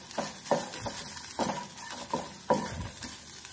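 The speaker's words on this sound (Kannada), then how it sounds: "ತೆಂಗಿನ ತುರಿ ಕಲರ್ ಚೇಂಜ್ ಆಗೋವರೆಗೆ ಫ್ರೈ ಮಾಡ್ಕೊಳ್ಳಿ" Grated coconut fries in a pan while a spatula stirs and scrapes it, giving soft rhythmic scrapes and light clinks over a faint sizzle, close and fairly quiet with no voices.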